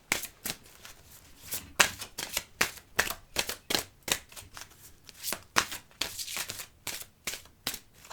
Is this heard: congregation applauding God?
no